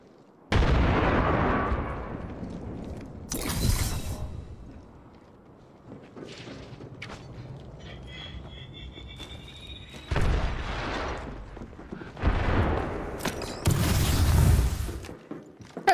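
Several heavy explosion bursts from a frag grenade in a video game, loud, sharp blasts arriving in separate bursts with quieter gameplay noise between them.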